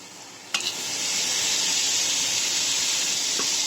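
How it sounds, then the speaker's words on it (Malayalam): Onions and chopped tomatoes hit a hot pan with a sudden burst, then settle into a loud, steady hiss of frying, close and alone. "ഇനി ഇതിലേക്ക് നമ്മൾ അരിഞ്ഞു വെച്ചിരിക്കുന്ന തക്കാളിക്കും കൂടെ ആഡ് ചെയ്യാം"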